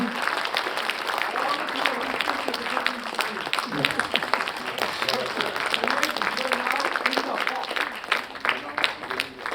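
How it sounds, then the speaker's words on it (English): Applause from the audience at a solar leadership MoU signing ceremony, steady, fairly close clapping that runs the full length, with faint voices beneath. "Everyone, keep applauding."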